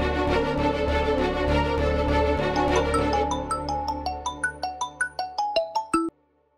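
A phone ringtone plays loudly as a rich melodic tone, then breaks into a rhythmic series of bright, evenly spaced chiming notes that stop abruptly near the end, with no talk.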